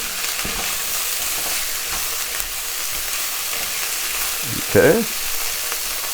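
Garlic and vegetables sizzle steadily in a pan, a continuous close hiss as they are stirred, with a brief scrape near the end and a short word spoken.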